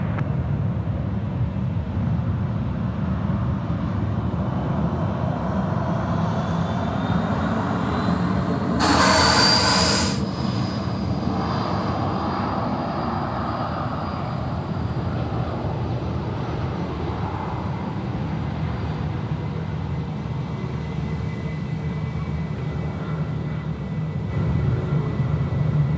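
Jetstar A320 airliner departing runway 16 right at Sydney Airport in the evening, a steady, sustained jet roar with a rising whine, heard from a distance with no talk.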